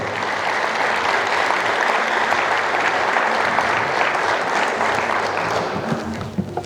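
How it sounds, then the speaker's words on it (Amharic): An audience at a book launch ceremony breaks into sustained, steady applause. The clapping is dense and loud and fills the hall, with faint crowd murmur. "ጭብጨባችሁ ግን ጋሞ ጨንቻ ድረስ የሚሰማ አይደለም"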